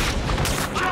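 Rapid, dense gunfire fills a second of combat in Call of Duty as German soldiers are shot at, heavy and continuous with a narrating voice over it.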